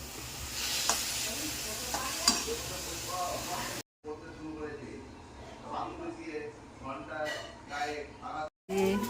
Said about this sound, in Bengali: সয়না শাক ভাজা হচ্ছে